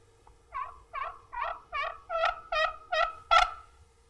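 A handheld turkey call, a friction call of glass, aluminum or slate, imitates a turkey gobble with eight evenly spaced raspy clucks that grow louder toward the end, close and alone.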